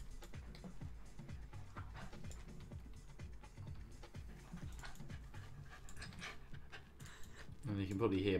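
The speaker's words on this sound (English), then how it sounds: "can probably hear my dog's woken up now," A dog pants rhythmically in quick repeated breaths close to the microphone, with talk running alongside and a louder burst near the end.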